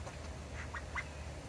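Small backyard ducks kept alongside chickens give three short nasal quacks in quick succession, faint and somewhat distant over a steady low outdoor rumble as a storm approaches.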